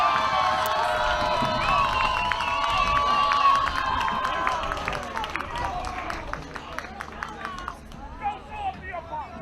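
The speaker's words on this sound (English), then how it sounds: "It is a lively crowd here at Winterholder Field here on a Monday afternoon." A lively sellout crowd murmurs and cheers at a college baseball game at Winterholder Field, a dense, steady babble of many voices with shouts rising through it before thinning toward the end.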